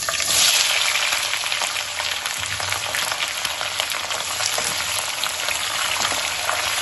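Bitter gourd, potato, onion and chilli frying in hot oil in a pan, a dense, steady crackling sizzle that stays loud and close throughout with no voices.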